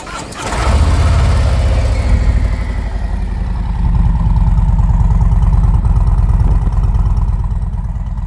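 A Harley-Davidson Tri Glide fitted with S&S slash cut slip-on exhausts starts warm with a quick crank, then settles into a loud, deep, loping idle rumble close by.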